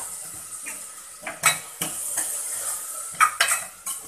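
Small tomatoes are stirred and sautéed in a pan for mutton keema thokku, with a spoon scraping and clinking against the metal several times over a light background sizzle, close up and with no voices.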